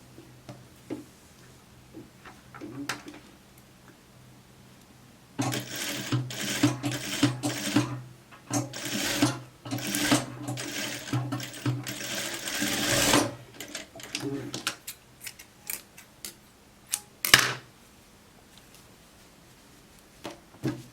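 A sewing machine stitches a raglan-sleeve coat in quick bursts of rapid ticking needle strokes, close and fairly loud, separated by pauses while someone talks.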